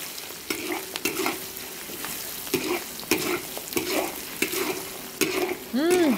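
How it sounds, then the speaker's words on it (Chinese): Fatty cured Chinese pork (la rou) stir-fried in hot oil in a wok, with a steady sizzle and repeated scraping stirs of the spatula every half second or so, close and fairly loud, no talking. "油热了，把那个稍微肥一点点的腊肉倒进来， 多给它煸炒一下"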